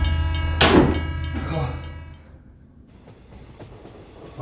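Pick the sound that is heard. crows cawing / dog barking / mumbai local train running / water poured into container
mumbai local train running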